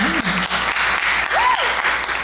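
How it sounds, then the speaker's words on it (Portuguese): Audience applause fills a lecture hall during a talk on women's literature, a steady wash of clapping that lasts the whole stretch, with a brief voice and a couple of faint tonal sweeps over it. "Os aplausos hoje são para eles."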